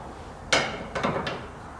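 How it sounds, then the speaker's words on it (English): A hammer taps on a drift car's tie rod end during a pre-event check: one sharp metallic strike followed by two lighter taps, close and clear in a quiet garage. "My hammer."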